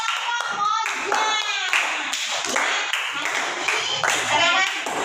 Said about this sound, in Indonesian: Beri tepuk tangan dulu buat kelompok Moja.